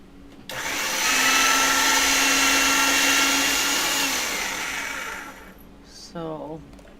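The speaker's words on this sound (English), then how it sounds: "Let me get this through the machine thinner." A clay cane is fed through a machine to thin it, giving a steady motorized whir for roughly four seconds that fades out, followed by a brief voice.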